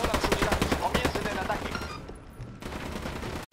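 Gunshots in Ghost Recon Wildlands ring out in a quick run of sharp, evenly spaced cracks, then cut off into a brief quiet before a low rumble returns; no one speaks.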